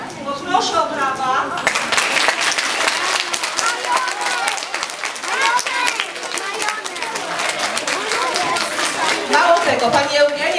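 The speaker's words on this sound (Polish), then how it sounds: "Poproszę o brawa" Audience applause at a children's theatre play, brisk dense clapping from a crowd with overlapping chatter and voices throughout, loud and close.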